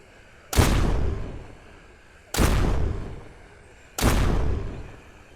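Three heavy gunshots from the zombie survival video game Surrounded, evenly spaced about two seconds apart, each a sharp loud boom with a long rumbling decay.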